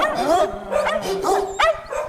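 A dog barks and yips several times in quick succession, loud and close, as a sound effect in a radio commercial about free puppies.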